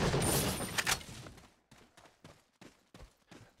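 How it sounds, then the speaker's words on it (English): Submachine gun fire in Resident Evil 4: a dense, loud burst of rapid shots up front, then several short separate volleys at a steady pace, each fading quickly. "I think the submachine gun is good for this section"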